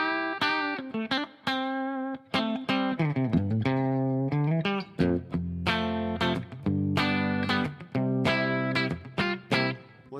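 Guitar through a Headrush 65 T-Lux preset, with tremolo placed before a modeled 65 Black Super Reverb amp. A lively run of clean-to-slightly-gritty notes and chords plays continuously up close, with quick choppy phrasing and no voice.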